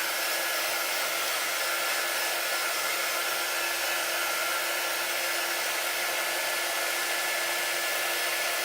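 A hair dryer blowing steadily on chalk paint on a Halloween porch sign: a loud, constant, close whirring hiss with a faint motor whine, unbroken throughout.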